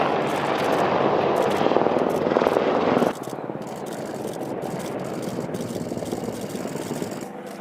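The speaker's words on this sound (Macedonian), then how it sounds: "следиме налетот на хеликоптерите Апачи" Apache helicopters pass overhead during a NATO military drill at a training range, their loud rotor chop and engine roar filling the air before dropping abruptly to a softer, steady drone as they move away.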